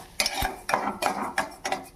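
Semolina (rava) is roasted in ghee in a pan, heard as quick, rhythmic scraping stir strokes every half second or so, close and clear with no talking.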